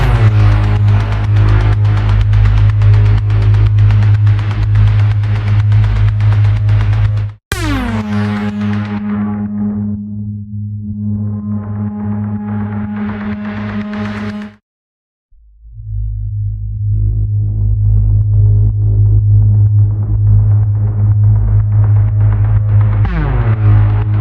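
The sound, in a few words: laser-like synth sound from Zero-G Elements Kepler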